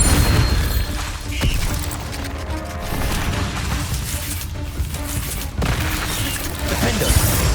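Bombarda spell explosion in Hogwarts Legacy: loud booming blasts and crashing impacts over a dense, noisy combat backdrop, with a few sharper hits standing out.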